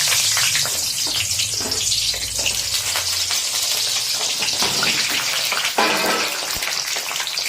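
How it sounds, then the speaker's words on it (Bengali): Cut eggplant goes into hot oil for baingan masala, sending up a loud, close sizzle and spattering crackle that stays dense throughout with no talk. "এখানে আমাদের তেলটা কিন্তু গরম হয়ে গেছে। আর এই সময় দিয়ে দিচ্ছে এতে কেটে রাখা বেগুন।"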